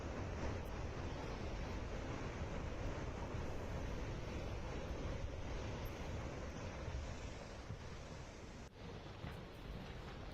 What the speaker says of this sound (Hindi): लैंडस्लाइड की वजह से तीस्ता नदी में आप देख रहे हैं कैसे तूफान आ चुका है।